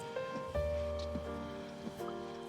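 Rain falling steadily on a car while driving home, a soft continuous wash with a low road rumble underneath and a few faint thumps, heard without talking.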